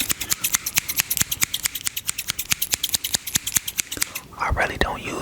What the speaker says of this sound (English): So next on the list are my scissors